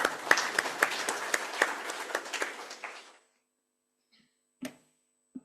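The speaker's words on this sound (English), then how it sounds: "shall we give our keynote speaker another big round of applause?" Audience applauds a keynote speaker at a World Engineering Day event, a dense burst of clapping with a few sharper claps for about three seconds before it stops abruptly, followed by near silence and two faint isolated knocks.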